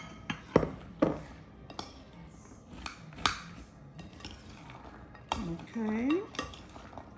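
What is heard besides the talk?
spoon mixing nuts in a bowl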